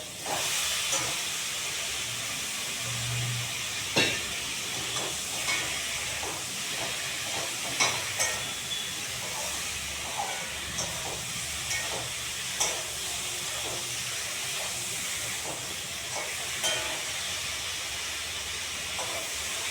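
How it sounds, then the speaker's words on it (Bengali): Malabar spinach and shrimp fry in a pan, giving a continuous close hiss scattered with small pops and crackles, with no talking. "ভাজা হয়ে উঠবে এবার দিয়ে দেবো পুঁই শাকটা"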